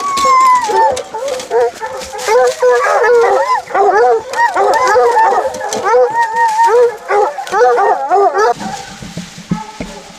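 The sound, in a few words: hunting dogs barking and howling after being let off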